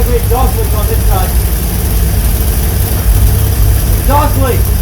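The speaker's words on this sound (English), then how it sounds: "Pretty ugly exhaust leak on this side." A 1969 Jeepster Commando with a Dauntless engine idles loudly and close, its steady low rumble carrying a ragged exhaust leak, while people talk briefly over it.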